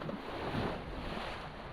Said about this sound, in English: the sun appeared out of nowhere with the waves incoming here